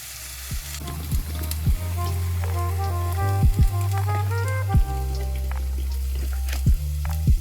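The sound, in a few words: eggs frying in a pan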